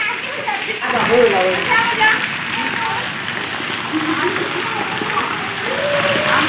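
Steady patter and splashing of the season's first rain across the whole stretch, with children's voices and chatter mixed in over the wet background.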